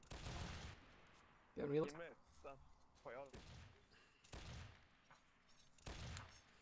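Musket volleys from a Mount & Blade: Napoleonic Wars line battle crack out in several broad bursts spread across the stretch, mid-distance and fairly loud, with a player's voice talking between and over the shots.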